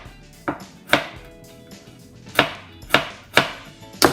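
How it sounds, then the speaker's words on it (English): A knife slicing carrots into thin rings on a cutting board, six crisp separate chops at an uneven rhythm, close and clear with no talking. "it doesn't take long to slice little rings out of carrots"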